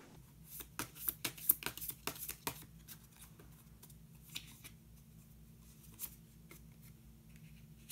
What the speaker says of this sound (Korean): 마지막으로 마법사 카드 한 장 더 뽑아보도록 하겠습니다